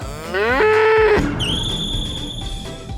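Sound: cow mooing, or a person imitating a cow

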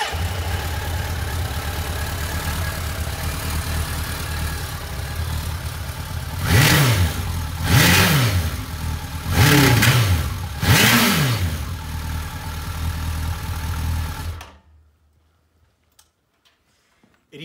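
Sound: 1986 Suzuki GSXR-1100 motorcycle engine started and revving

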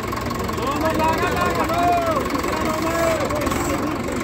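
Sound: tractor engine at a harrow competition

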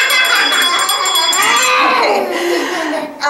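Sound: children ringing hand bells

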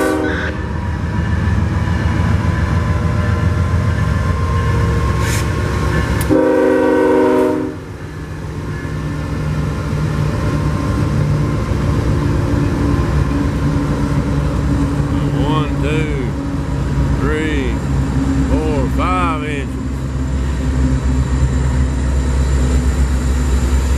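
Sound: freight train with several locomotives passing

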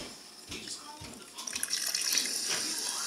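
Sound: pouring Sprite into a cup with ice

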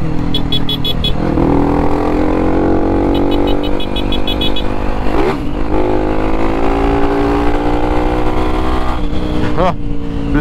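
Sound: Honda XRE 300 motorcycle riding

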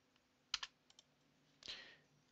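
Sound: computer keyboard enter key being pressed

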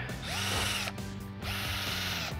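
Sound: Switchdriver 20V cordless drill drilling with pilot bit

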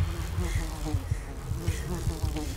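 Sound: bees buzzing in a video game

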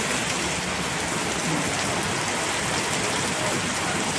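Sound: heavy rain falling

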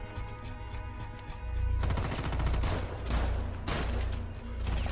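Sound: gunshots in a video game

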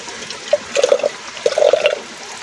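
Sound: babbling stream water

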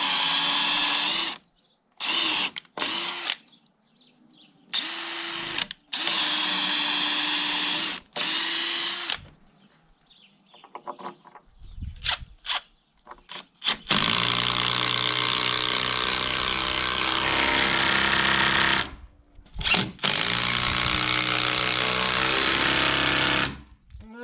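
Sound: drilling an 8 mm pilot hole and driving screws into timber

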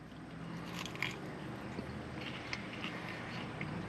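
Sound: biting into crunchy deep fried mac and cheese

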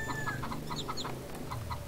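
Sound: chickens clucking in the video game Harvest Moon: Save the Homeland

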